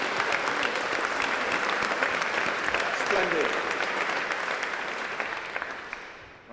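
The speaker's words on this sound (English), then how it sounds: "Lovely, round of applause." Audience applause for a demo team at a newsHACK prototype session fills the room in a sustained, even burst that slowly fades toward the end, with a brief spoken word over the clapping.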